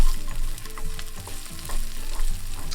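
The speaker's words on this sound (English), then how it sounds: "maybe hear a little sizzle there. They're in the oil." Onions sizzling and frying in oil in a pan on the stove for a homemade burger, a steady crackling hiss with faint stirring and scraping throughout, no talking.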